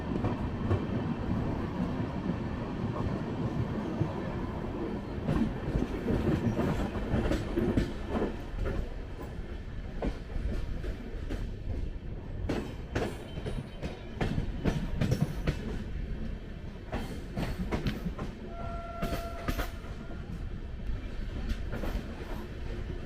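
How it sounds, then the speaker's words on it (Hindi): The Sampoorna Kranti Express rolling slowly past Prayagraj Chauki railway station, heard from aboard as a steady rumbling ride with repeated clickety-clack wheel beats over rail joints and a brief squeal, with no talking. "तो दोस्तों अब हमारी संपूर्ण क्रांति प्रयागराज चौकी रेलवे स्टेशन को क्रॉस कर रही है धीरे"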